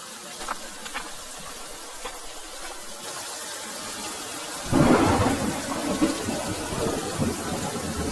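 Rain falling with a loud thunder rumble breaking in midway through a cartoon storm scene, the downpour hissing steadily before and after the clap.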